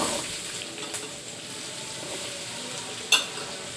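Bitter gourd pieces fry with onions in a pan, giving a steady, moderately close sizzle with light stirring and a sharp metallic clink near the end.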